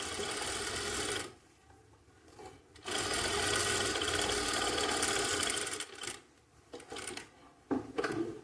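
A sewing machine stitches a jacket pocket in steady, fast bursts of mechanical whirring, pausing briefly between runs, then resuming with shorter stop-start stitching toward the end.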